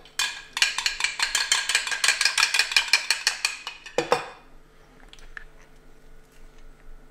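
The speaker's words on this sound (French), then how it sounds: "je vais commencer à mélanger ça déjà" Crunchy salad vegetables tossed in a bowl with lemon juice, salt and pepper: a fast, steady run of clinking utensil scrapes for about four seconds, then a knock, followed by quiet.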